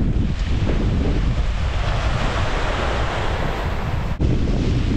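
Sea waves wash onto a storm-eroded beach in Mariupol where a wave-protection structure is being reinforced, a steady broad roar of surf with gusty wind buffeting the microphone throughout.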